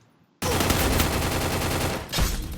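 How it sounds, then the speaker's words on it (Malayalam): Gunfire from a played video, a sudden loud burst of rapid machine-gun style shots that rattles on continuously, briefly dipping and then surging again near the end. "വെടി"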